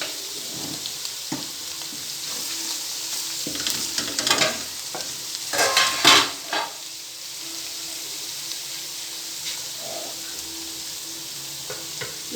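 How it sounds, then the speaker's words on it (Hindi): Mustard greens tossed into a pan of frying masala for sarson ka saag, giving a low sizzle under scraping stirs, with a few louder bursts of frying and spoon clatter partway through. "अब इसमें साग ऐड करते हैं।"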